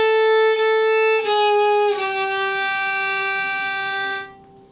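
Solo violin plays a short phrase, a few sustained bowed notes with a slide between them, close and clear with no talking, ending in a brief fade.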